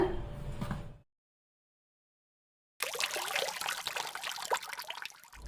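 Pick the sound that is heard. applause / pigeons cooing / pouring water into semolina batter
pouring water into semolina batter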